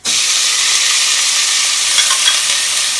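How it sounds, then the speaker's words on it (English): Onions sautéing in hot oil with cumin seeds, a loud, close, continuous sizzle with faint stirring beneath it. "Let the onions saute for about 2 minutes."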